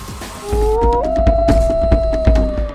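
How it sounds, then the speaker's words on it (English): A wolfdog hybrid gives a loud, close, sustained tonal howl that slides upward and holds a steady pitch, with a second overlapping voice early on, against busy background noise. "Wolf Dog."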